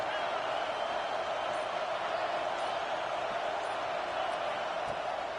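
Stadium crowd roaring in a college football video game matchup of Tennessee against Ohio State, a dense, steady wash of noise that holds at an even level throughout with no breaks.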